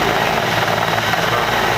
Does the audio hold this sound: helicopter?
yes